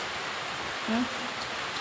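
Steady rain falls in a dense, even wash of noise, continuous throughout with a faint brief voice in the middle.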